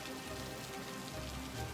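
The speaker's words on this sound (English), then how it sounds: "So the rain is starting to slowly peter off" Steady rain falls on a surface in Argyllshire, a dense, even hiss with soft patter that holds at a constant level throughout, with no voices.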